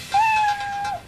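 A cartoon cat from an animated Transformers: Rescue Bots episode gives one drawn-out meow that rises, holds steady and then dips at the end. It is close and clear, with no talking.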